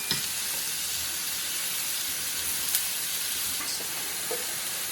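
Leftover fried rice sizzles and hisses in a hot pan as it is stirred. The frying is a soft, steady crackle with occasional small pops, and no voices are heard.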